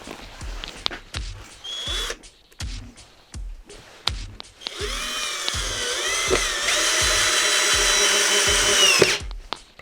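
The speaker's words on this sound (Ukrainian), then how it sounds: "Беремо новий і пробуємо закручувати шурупи." A Procraft PA212 cordless screwdriver drives screws: a series of short clicks and taps, then a long whirring run with rising and falling motor pitch, loud and close, ending abruptly.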